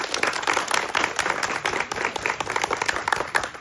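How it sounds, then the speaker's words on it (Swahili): An audience of students and teachers at a Lutheran seminary claps together in continuous, dense applause that stays loud and even throughout, with no talking over it. "Wow, naona wote, tujipigie makofi."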